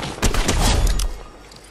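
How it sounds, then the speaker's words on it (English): Sniper rifle gunfire in the video game Fortnite, a loud close crack followed by a rapid burst of shots lasting about a second before fading into quieter background. "I'm being sniped at."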